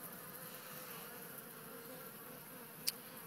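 A swarm of gentle honeybees being caught gives a steady, close droning hum with no voices, and one brief sharp tick near the end.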